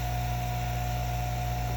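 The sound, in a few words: vacuum pump motor running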